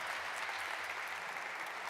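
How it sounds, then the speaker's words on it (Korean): A hall audience gives a short, even burst of welcoming applause as the chairman enters a future-themed talk event; the clapping is continuous and soft, with no voices over it. "저희 큰 박수로 환영해 주시기 바랍니다"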